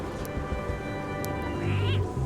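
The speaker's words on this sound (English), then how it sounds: "The cat is definitely not happy to be touched." A cat in the video game Return to Monkey Island gives a displeased, drawn-out meow when touched, rising near the end over a busy game soundtrack.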